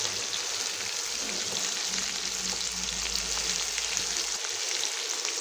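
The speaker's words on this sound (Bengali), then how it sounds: "এবার আলু, পেঁয়াজ, কাঁচা লঙ্কাটা নুন দিয়ে খুব ভালো করে ব্রাউন কালার করে ভেজে নিব" Potatoes, onion and green chillies sizzle and crackle steadily in a hot pan, a close, continuous hiss of frying with faint stirring scrapes throughout.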